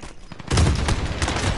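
Burst of rapid gunfire in an online shooter video game, a close, loud volley of overlapping shots.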